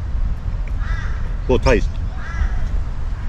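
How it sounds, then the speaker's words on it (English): Crows caw outdoors, a couple of distant harsh calls over constant wind rumble, while someone talks briefly close by. "Up flaming crows, can you hear them? They're everywhere here."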